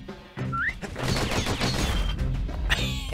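Gunfire from a character rolling and shooting in the video game Bastion, a dense burst of rapid shots and crashes running for about three seconds after a brief quiet start, fairly loud.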